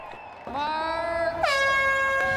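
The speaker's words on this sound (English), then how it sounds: "And with the sound of the horn, they're off at 9:35 a.m." A loud air horn blasts twice to start the New York City Marathon women's race, over crowd murmur, the second blast brighter and longer, with distant voices underneath.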